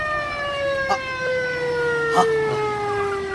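A police siren wails loud and close in a drama scene, a steady sustained tone gliding slowly downward, with a couple of brief clanks and thumps breaking through.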